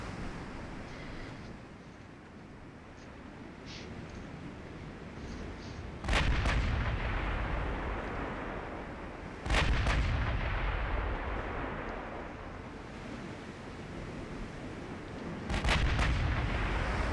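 Naval artillery from big-gun fleet combat in the game Ultimate Admiral: Dreadnoughts, three heavy booming salvos several seconds apart, each followed by a rumbling roll, over a constant sea-and-wind wash.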